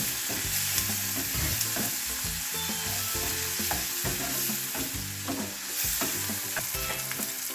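Tomato masala sautéing in a pan for a Kerala-style dish: a continuous loud sizzle with repeated scraping and stirring strokes of a utensil, no talking.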